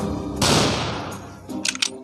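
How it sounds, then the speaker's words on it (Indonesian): A sniper shot in the Call of Courage video game cracks with a sharp loud blast that decays over a second, followed by quick clicking mechanical bursts. "mode sniper, mantap. Kita jadi sniper handal"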